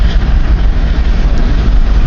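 Long CN freight train starting up slowly, a steady loud low rumble with continuous rolling noise and no break, up close and without talk.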